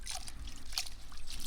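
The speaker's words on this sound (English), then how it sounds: "I wash orchid roots." Orchid roots rinsed in a container of water, a close, soft trickling and splashing with small irregular drips and swishes.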